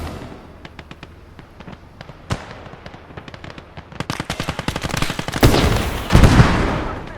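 Gunfire in the World War II game Gates of Hell multiplayer: rapid bursts of automatic fire and single sharp shots, thickening into a loud, dense barrage with heavy blasts toward the end.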